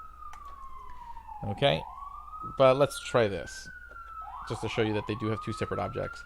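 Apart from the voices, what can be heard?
police sirens on busy Brooklyn street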